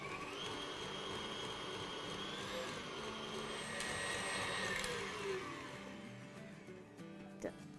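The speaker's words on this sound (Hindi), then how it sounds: "ग्राइंडर में कर रहे होंगे तो उसमें भी आप नोट करेंगे आवाज़ चेंज हो गया है" Kitchen grinder whipping cream into homemade butter, a continuous motor whine with a gradually shifting pitch, fairly faint, with a person speaking over it.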